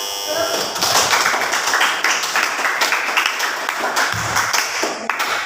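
Classroom applause from junior high students after a classmate's summary, a brisk burst of many hands clapping that carries on for several seconds at close range.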